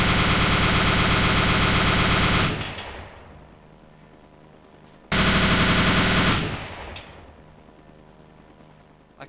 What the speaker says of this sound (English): the minigun SUV